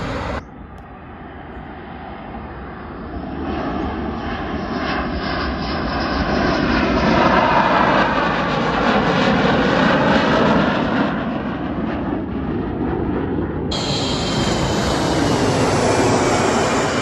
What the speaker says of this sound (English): the planes fly right over the top of the caravan